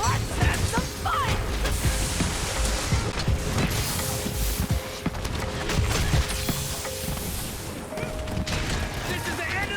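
Gunlance strikes and shell explosions in a multiplayer monster-hunting video game, with repeated heavy booms, clanks and crashes in quick irregular succession, loud and busy with other game noise.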